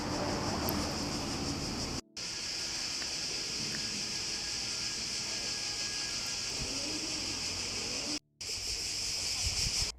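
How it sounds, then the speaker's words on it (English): A dense, steady drone of crickets chirping outdoors in a garden in Italy at sunset, continuous and fairly loud, with a couple of brief dropouts. "The crickets were chirping"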